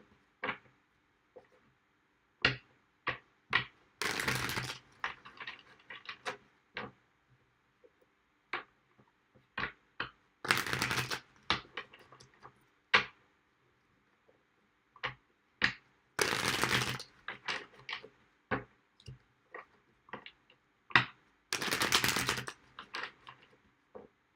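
Tarot cards shuffled in repeated rounds, with quick crisp riffle bursts and sharp taps between them, close and clear with no talking.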